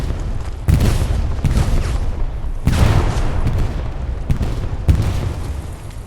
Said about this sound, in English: We got multiple rockets landing close.